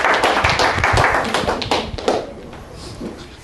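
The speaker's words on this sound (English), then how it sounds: "Big round of applause." A workshop audience gives a round of applause, a burst of close, crisp hand claps that is loudest at the start and then thins out and fades over the last second or so.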